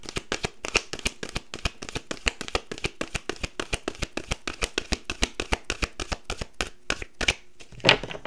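A deck of playing cards being shuffled over and over, producing a rapid, even run of crisp riffling bursts up close, ending with a brief louder snap and scrape.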